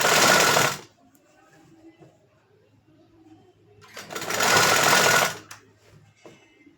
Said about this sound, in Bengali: 3 সুতো ধরে আমি এটা সেলাই করলাম।